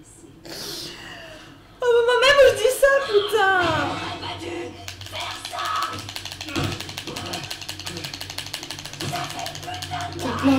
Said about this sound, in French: Tronçonneuse mon pote